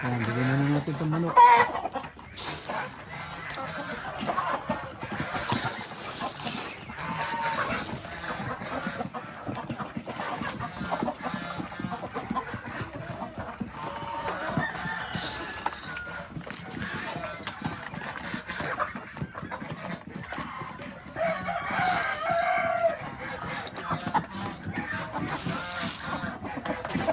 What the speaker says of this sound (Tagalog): Bigyan muna natin tong mga manok.